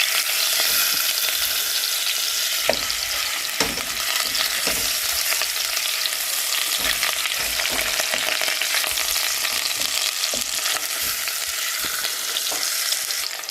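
Tlitli pasta browning in butter in a pan gives a loud, continuous close sizzle and crackle, with light stirring scrapes now and then and no talking.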